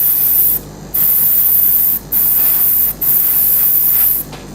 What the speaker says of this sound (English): I'm just spraying some fumes around here